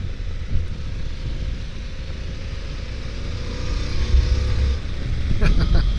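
A 2023 Harley-Davidson Pan America Special motorcycle is ridden with the engine revving up hard and rising in pitch, under a steady rush of wind noise. A voice talks over parts of it.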